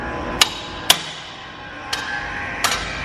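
Hammer strikes ring out against metal while a motorcycle chassis with a Honda Hornet engine is being built, four sharp separate blows spaced unevenly over a quiet background.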